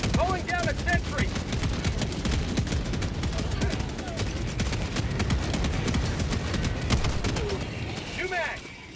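A sentry gun firing in the Helldivers 2 video game, a continuous rapid stream of shots running steadily throughout with other battle noise and brief voice fragments layered underneath.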